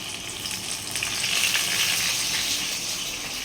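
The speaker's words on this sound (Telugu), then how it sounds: "స్పూన్ తీసుకొని ఇప్పుడైతే టమాటాలు వేసుకుందాము." Tomatoes going into a hot frying pan in a home kitchen, giving a steady, fairly loud sizzle and frying hiss that swells slightly midway and continues without talk.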